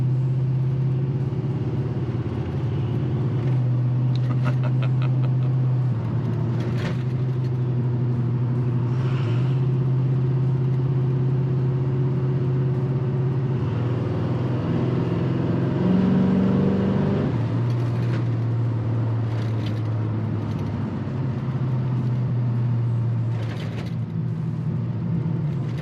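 A 1986 Chevy K10 truck's V8 rumbles at a low, steady idle inside the cab, rising into a couple of throaty revs as the secondaries open before settling back to a deep drone.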